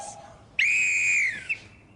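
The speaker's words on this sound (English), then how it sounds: "Blow the whistle if anything goes wrong." A whistle blown hard in a building foyer gives one loud, shrill, sustained blast lasting under a second, followed by a short fainter chirp, with no talking.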